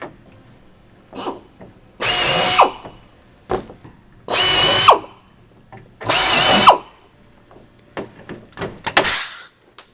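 Power rivet tool setting rivets during portable toilet unit assembly: three loud, evenly spaced bursts of about half a second each, separated by smaller clicks and handling knocks.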